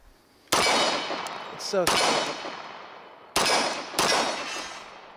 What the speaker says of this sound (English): It's one of the smoothest shooting 45s I've ever shot